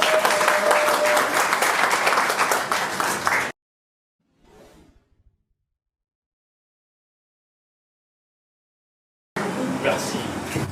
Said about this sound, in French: Sous les applaudissements, s'il vous plaît